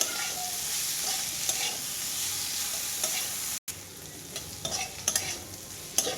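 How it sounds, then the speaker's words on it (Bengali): Pieces of bitter gourd fry in hot oil while being stirred in a pan, a loud continuous sizzle broken by scraping stirs and a brief cut, with no voices. "এই দেখুন করলাগুলো আমার হাফ ভাজা হয়ে গেছে"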